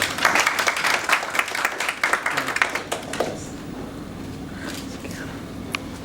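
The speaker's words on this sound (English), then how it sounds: "let's welcome Mr. Bhatt with a round of applause, please, for his opening" Full-house audience at a talk welcomes a speaker with brisk applause for about three seconds, the clapping then thinning to scattered claps and room murmur.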